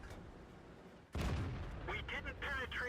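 A tank gun shot in World of Tanks: one sudden, loud, booming blast breaks a low rumble, then a voice speaks over the fading echo.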